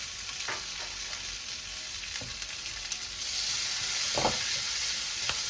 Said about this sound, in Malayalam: ഇനി ഇത് ഗോൾഡൻ ബ്രൗൺ ആവുന്ന വരെ നമുക്ക് ഇതിനെ ഒന്ന് വഴറ്റിയെടുക്കണം